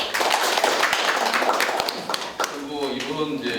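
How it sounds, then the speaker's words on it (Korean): Brief applause from an audience at a Korean seminar on digital archiving, with scattered clapping under and around a speaking voice that fades into a tonal background. "박수"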